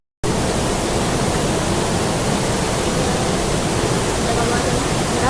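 A waterfall at Irikkur roars with a constant, loud, close rushing of water, unbroken from start to finish.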